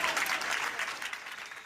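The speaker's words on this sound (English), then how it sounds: "Crowd goes wild." A crowd at a Roswell, Georgia town hall applauds in a dense, steady wash of clapping, loud and continuous throughout the short stretch.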